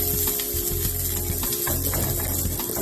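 Potatoes pan-frying in hot oil beside lamb chops, a steady dense sizzle with crackling pops running throughout, close and fairly loud with no voices.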